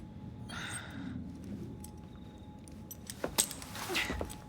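Keys jangle briefly in Assassin's Creed Syndicate, a few quiet metallic clinks and a soft rustle coming late after a hushed stretch, with no talk over them.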